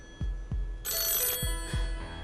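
A telephone bell rings in bright bursts on a game show set, with low thumps repeating beneath; loud and close, no voices.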